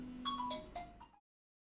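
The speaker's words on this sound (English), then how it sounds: "I have a phone call." Phone ringtone for an incoming call, a short melodic sequence of bright rising and falling tones lasting about a second before cutting off to silence, heard alone at moderate volume.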